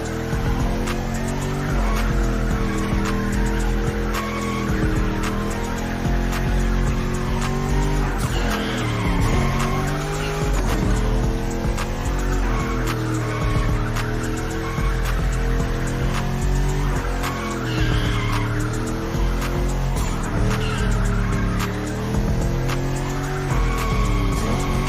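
A car drifts in the video game The Crew Motorfest, tires squealing over a continuous engine roar with shifting pitch. It is loud and sustained throughout, with no talk.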